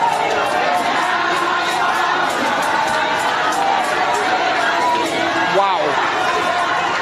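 Cheering and chanting from a large protest crowd in Rivers State roar on without a break, a thick wall of shouting voices with occasional higher cries breaking through near the end.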